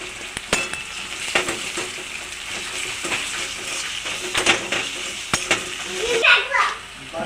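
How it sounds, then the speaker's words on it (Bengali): Onions frying with garlic paste in a pan for an egg poach curry, a steady sizzle broken by sharp spatula scrapes and clinks against the pan, fairly close. "পেঁয়াজটা ভাজতে ভাজতে দিয়ে দেবো রসুন বাটা।"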